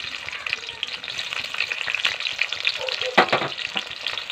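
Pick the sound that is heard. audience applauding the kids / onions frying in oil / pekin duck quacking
onions frying in oil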